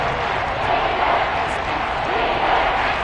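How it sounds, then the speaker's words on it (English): A large stadium crowd at a Cowboys versus Redskins American football game roars steadily throughout, a dense wash of cheering and shouting with no breaks, loud and close around the listener. "this crowd urging on their defense. They're up and making noise."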